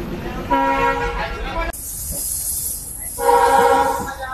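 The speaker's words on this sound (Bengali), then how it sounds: "তো ট্রেন ছেড়ে দিয়েছে" A train horn sounds in two loud blasts separated by a steady rumble of a moving train on the Mohammadnagar to Mongla route in Bangladesh, with a hiss of wind across the recording.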